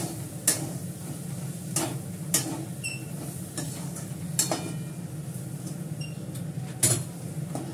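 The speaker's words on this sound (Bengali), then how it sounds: "মাংসটা কষাচ্ছি, কষিয়ে নিয়ে জল দিয়ে দেবো।" Meat is being stirred and seared in a pan, with irregular sharp clinks of a spoon against the metal over a steady low sizzle, close by, and no talking.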